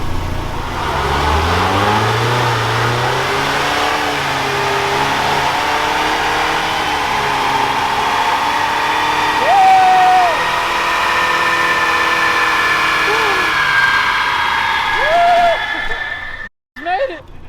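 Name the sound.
rental car engine revving on a dyno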